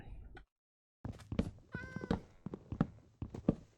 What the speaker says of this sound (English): Oh, it's a jelly cat.